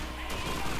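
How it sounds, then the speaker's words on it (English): Machine gun fire in Call of Duty 2 comes as a rapid, dense burst of gunfire lasting under a second, loud and continuous. "Machine gun fire."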